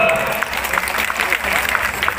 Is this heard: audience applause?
yes